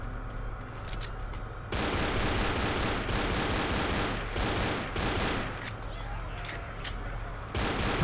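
Shotgun fire in Left 4 Dead, dense bursts of gunfire with a continuous broadband crackle and repeated sharp blasts running over most of the clip.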